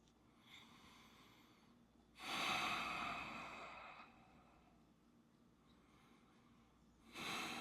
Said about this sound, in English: Keep breathing nice and slowly through your nose.